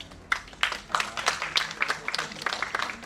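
Scattered claps in an awards ceremony audience, loose and sparse, arriving in a rough uneven rhythm of sharp individual hand strikes rather than a full wash of applause.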